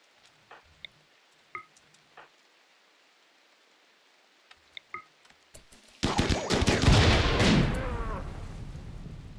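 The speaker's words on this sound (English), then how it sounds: "There's a grenade in the air coming right for Simmons." A grenade and gunfire in the RimWorld colony game: a few faint, sparse clicks and pops, then a sudden loud, sustained burst of noisy blasting that slowly fades.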